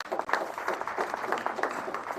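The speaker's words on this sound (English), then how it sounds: "I request all of us here to put our hands together and just give a clap" Faint, continuous applause from an audience at an exam results release ceremony, a soft, dense patter of many hands heard at a distance.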